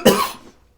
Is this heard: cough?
yes